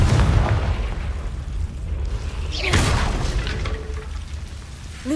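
The Confringo blasting spell exploding in Hogwarts Legacy, a loud rolling boom with crackling burst over heavy low rumble, followed by lingering magical whooshes and a rising tonal sweep.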